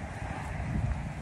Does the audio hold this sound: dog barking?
no